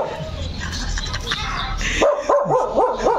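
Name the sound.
dog barking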